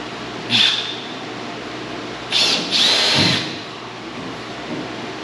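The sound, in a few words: power drill drilling hole for a new door bar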